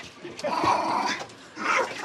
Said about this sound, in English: What's wrong with the dog?